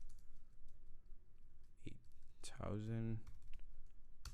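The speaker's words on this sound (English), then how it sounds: "open a new tab, type localhost" A few quick keystrokes on a computer keyboard, brief sharp clicks, come up close while someone talks over them.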